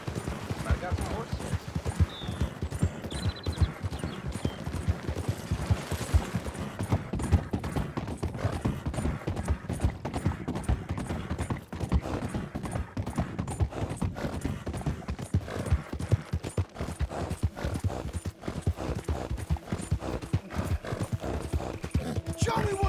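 Steady clip-clop of horse hooves in a video game, rhythmic and continuous throughout, with occasional neighing and a talking voice over the top.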